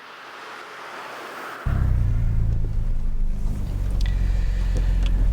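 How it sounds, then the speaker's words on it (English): Rear tyre roar fills the cabin of a fast £50,000 car, a loud, steady low rumble that cuts in abruptly and drones on without a break. "There's a lot of noise from the rear tyres, which comes into the cabin."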